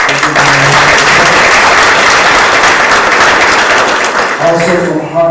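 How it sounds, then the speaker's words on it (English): Loud, dense applause fills a school board meeting room as a Hartsville High School student is recognized, sustained clapping that tapers off near the end. "We'll give him a round of applause."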